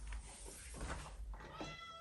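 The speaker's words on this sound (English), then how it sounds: "I think I hear the cat." A cat meows a couple of times nearby, short plaintive calls against a quiet indoor background.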